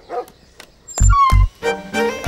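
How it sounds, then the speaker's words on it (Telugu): A dog barks in a Telugu film scene outside a house: two loud, close barks in quick succession, followed by further yips and whimpers over faint background tones. "కుక్క"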